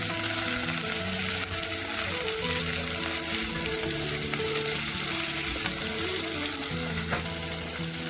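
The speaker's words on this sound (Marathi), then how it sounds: "आता आपण यामध्ये कापलेला कांदा टाकून परतायचा आहे." Chopped onion sautés in a hot pan for a restaurant-style butter paneer gravy, giving a steady, close sizzle with light stirring throughout and no talk.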